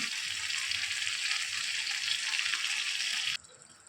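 Squid frying in a pan with tomato and curry leaves, a steady loud sizzle that runs continuously for several seconds, then cuts down sharply to a quieter hiss near the end.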